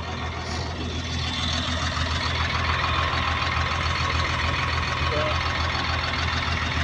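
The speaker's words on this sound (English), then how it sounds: "You can hear the sound of the engine like" A Caterpillar 950H wheel loader with low power under injector testing runs steadily near by, a continuous mid-pitched diesel drone with a faintly uneven, missing beat suggesting a misfire, lasting several seconds without a break.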